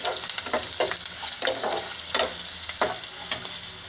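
Green chilies and garlic sizzle steadily in hot oil in a pan, with a scraping stir every second or so, for the filling of a green pea stuffed paratha; no talking.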